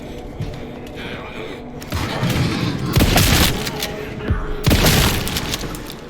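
Loud shotgun blasts from the survival-horror game Resident Evil Requiem: heavy booming shots at intervals, the biggest bursts near the middle and end, over a dense layer of game noise and music.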